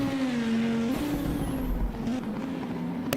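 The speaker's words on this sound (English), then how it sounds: "5-cylinder engine in that car. That's why it sounds very special." A five-cylinder race car in the Tatus competes in a European Hill Climb Championship round at Glasbachrennen, its engine howling loud and near with shifting pitch and a gear change partway through, then a sharp pop at the end.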